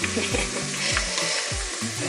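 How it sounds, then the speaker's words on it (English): Loud, steady sizzling of onion and rice frying in a pan for jollof rice, with a few low scraping sounds of stirring underneath and no voices. "I'm simply now just going to be frying this in with the onion"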